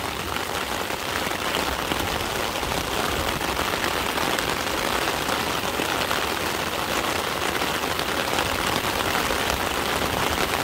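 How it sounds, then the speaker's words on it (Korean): Heavy rain pours down steadily at an outdoor fishing spot. The hiss of rain drumming on surfaces is dense, loud and unbroken throughout, with no talking. "비가 많이 쏟아지기 시작했습니다."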